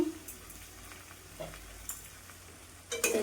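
Prawns and leafy greens in a curry being stirred in a pan over medium-low heat, with soft scraping and a gentle sizzle, a few sharper utensil knocks near the end.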